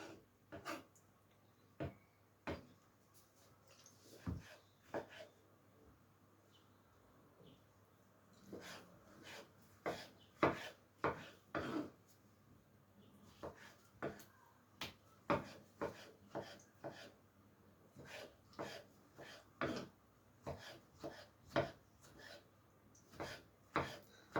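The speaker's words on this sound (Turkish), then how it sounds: "Bu taraftan da doğrayacağım" A knife chops peeled tomatoes on a wooden board. Irregular clusters of close, crisp taps run on and off, with faint breathing and handling noise between the bursts.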